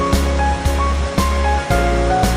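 Rushing water of a forest stream at Wang Takhrai in Nakhon Nayok, a steady close wash of flowing water with recurring low bumps and handling noise.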